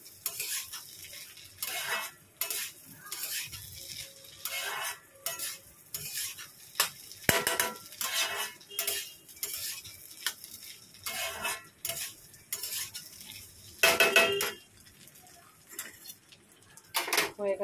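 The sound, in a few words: sautéing rice with spices in a pot for khichuri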